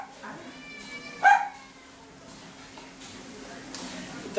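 A cat meows once, short and fairly clear, inside a home with many cats, over a quiet steady hum and faint background talk.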